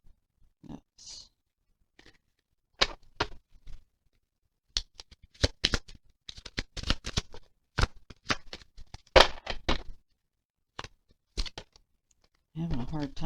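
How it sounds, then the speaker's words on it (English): Angel oracle cards are riffled and shuffled in short crisp bursts, close by, with pauses between, and a voice talks briefly near the end. "I'm having a hard time shuffling here for some reason."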